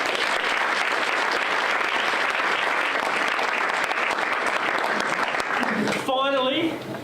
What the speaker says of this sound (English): a big round of applause for all the supporters out there